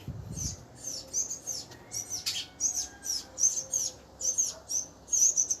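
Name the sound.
birds chirping outdoors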